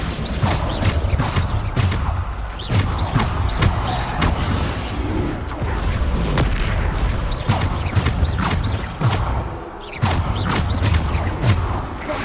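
Loud, dense game combat in Hogwarts Legacy with repeated sharp booms and crashes from Bombarda spell blasts over a continuous rumbling mechanical din, steady and close throughout.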